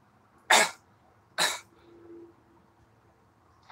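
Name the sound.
person coughing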